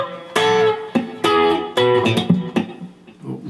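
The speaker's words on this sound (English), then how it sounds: "Let's just repeat that with the percussive bit, slowly." A guitar part is played slowly with a percussive bit, with a handful of ringing plucked notes mixed with sharp slap-like hits in an uneven rhythm, close up and alone.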